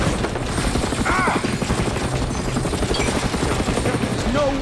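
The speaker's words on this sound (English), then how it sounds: "Who the hell has helicopters down here?" A helicopter in Far Cry Instincts drones loudly and steadily while bursts of gunfire crackle over it, with chaotic game effects layered throughout.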